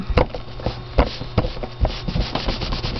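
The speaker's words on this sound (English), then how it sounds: "you want to smooth it out" Hand rubbing and smoothing over an image transfer on a coaster, a series of repeated scraping strokes at close range, alone with no talk.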